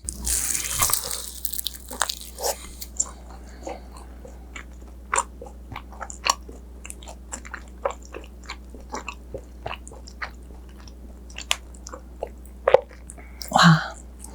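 Someone bites and chews a Korean yakgwa honey cookie topped with strawberry sauce close to the microphone, with scattered crisp crunches and soft, moist chewing sounds separated by quiet pauses.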